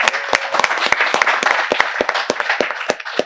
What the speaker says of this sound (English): I want everybody to give her a round of applause for saying that.